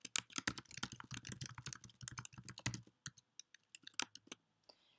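Fast, close keystrokes clatter on a computer keyboard as a message is typed, with dense bursts slowing to scattered clicks near the end.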